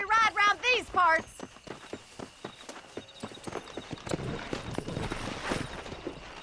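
Horse hooves clip-clopping in the video game Red Dead Redemption, a quick run of crisp hoof beats after a brief burst of a man's speech, the steps settling into a steady trotting rhythm under soft ambient noise.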